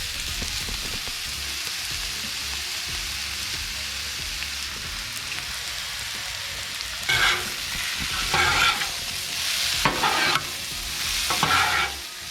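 Shredded chicken and cheese are tossed and scraped on a Blackstone griddle over a constant sizzle, with loud metal spatula scrapes arriving in bursts during the second half.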